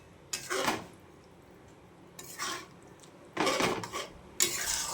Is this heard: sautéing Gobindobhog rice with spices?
yes